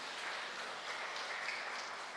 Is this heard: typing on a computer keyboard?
no